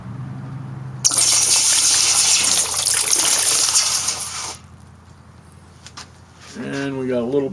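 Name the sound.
molten silver poured into water to make shot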